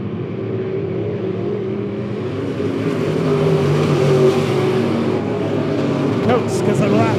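Race cars circle a dirt speedway at Monett Motor Speedway, a continuous engine roar swelling as the pack passes, with a commentator talking over it.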